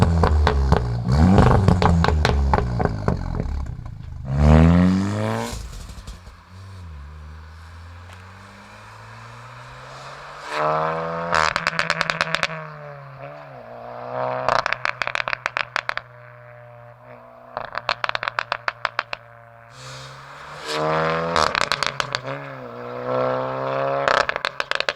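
A tuned manual VW GTI with 230 PS on a Stage 1 map revs repeatedly, its exhaust crackling and popping in rapid bursts on each overrun, loud and close between rising engine sweeps.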